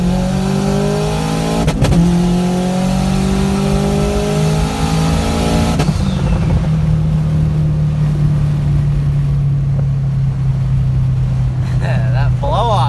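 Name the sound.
400hp Subaru STI accelerating, turbo blow-off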